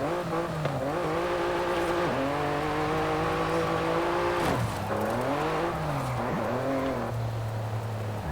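A Noble M400 driven in Forza Horizon 5 gives a loud, steady engine drone whose pitch climbs and drops as it revs and shifts, with no talking.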